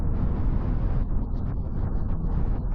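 A Toyota Yaris three-cylinder engine pulls hard under heavy throttle, a loud, steady low drone with wind and road roar blending in from inside the cabin.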